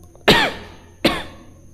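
A person with a cold coughs twice, each cough sharp and close, about a second apart in a quiet room.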